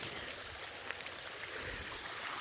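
Creek water pouring steadily over a low spillway near a stream crossing, a constant soft rushing hiss, moderately distant and alone.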